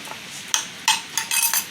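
Cucumber salad with peppercorn seasoning tossed in a bowl, giving a few short, sharp clinks and scrapes in quick succession, close and fairly loud.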